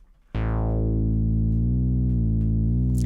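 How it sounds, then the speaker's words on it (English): A synthesizer note starts with a bright attack and holds, then its pitch bends down and back up several times with the pitch bend wheel, loud and close. "if I do a pitch bend, it sounds like this"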